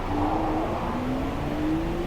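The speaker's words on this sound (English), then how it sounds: "Now the Supra's leaving" A 2021 Toyota GR Supra with a freshly installed AWE exhaust drives off, its steady engine drone rising slightly in pitch as it pulls away, loud and continuous under outdoor noise.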